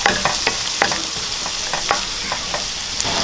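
Curry leaves, onion, garlic, ginger and green chili fry in hot oil for a potato mappas curry, giving a steady close sizzle broken by sharp crackles and stirring scrapes, with no talking.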